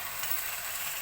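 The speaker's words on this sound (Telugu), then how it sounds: "ఇదిగోండి, ఫ్రై అవుతుంది." Washed rice fries in a pan for coconut rice, making a steady, bright sizzling hiss that stays even and close for about a second, with no talk.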